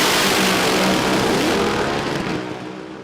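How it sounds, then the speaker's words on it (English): Alcohol-fuelled drag racing dragster at Willowbank Raceway in Queensland, its engine roaring loud and broadband with revs building, then tapering slightly as it fades toward the end, no talk. "You can hear the revs building up on Darren Fry's dragster."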